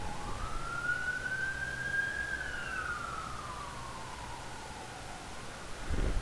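An ambulance siren wails past in one long rising and falling sweep, moderately distant over a steady background rumble of traffic.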